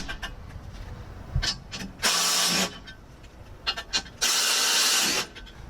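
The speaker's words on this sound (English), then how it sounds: "with a 17mm socket I am ready to remove the 3 bolts on each side." A ratchet with a 17mm socket backs off the nuts on a Toyota Land Cruiser 200 Series / Lexus LX570 bumper crush structure: a few light clicks, then two loud, sustained rattling bursts of about a second each, close up.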